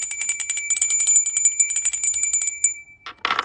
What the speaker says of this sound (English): I'm going to go ahead and ring the bell here